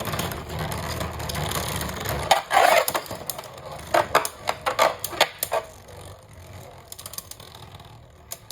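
Beyblade tops Achilles and Fafnir spinning in a stadium: a whirring rattle gives way to a burst of sharp clacking hits and rapid collisions, then sparser scraping knocks as the tops slow, close and fairly loud.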